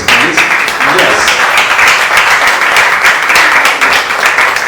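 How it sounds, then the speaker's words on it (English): An audience of members and partners at a wellness club meeting claps together, a dense, steady wash of applause holding at close range from start to finish with no break. "let's clap hands for the members, the partners"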